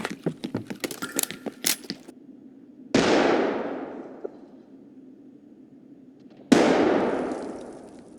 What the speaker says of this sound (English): Are those his nades or are those somebody else's?